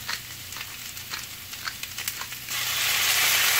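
Pumpkin sautéed with ginger and garlic hisses loudly in a pan, with quick scraping stirs breaking up the sizzle before it swells into a steady, louder fry.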